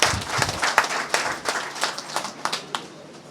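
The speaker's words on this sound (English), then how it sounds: "the incoming President, Senator Saraki, deserves another round of applause." An audience claps at a Nigerian PDP political event, a moderate crowd applause of scattered hand claps that stays fairly even, then thins slightly toward the end.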